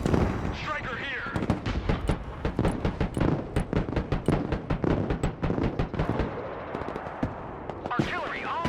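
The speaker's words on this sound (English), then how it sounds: "Sir, the Lithuanian artillery responded." Artillery fire in a military video game, a rapid run of sharp booming shots with explosions, fairly close and loud, while a voice speaks over the barrage.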